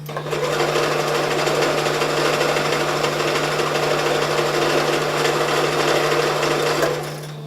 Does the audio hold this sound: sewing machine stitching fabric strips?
yes